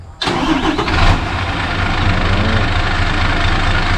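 Isuzu 240 hp six-wheel dump truck, remapped, cranks and fires up, then settles into a steady, loud diesel idle close by with a deep rumbling drone.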